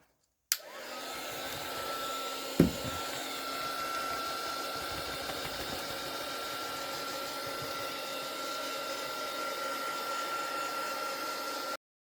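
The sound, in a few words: drying a mixed media tag with a drying tool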